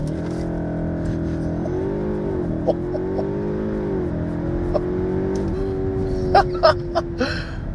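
A 2025 Cupra Leon Estate with four-wheel drive accelerates flat out from 0 to 62 mph, its engine droning steadily and climbing in pitch with dips at each gear change, heard close from inside the cabin, with a few gasps near the end.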